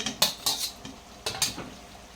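Paneer pieces dropped into a curry in a pan for dahi paneer, a few sharp clinks and scrapes of a spoon against the pan in quick bursts over a light background sizzle, close and without talk.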